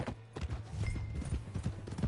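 Horse hooves clip-clop at a steady trot in the Red Dead Redemption 2 game world, repeated close, fairly loud thuds running through the whole stretch over a low ambient bed.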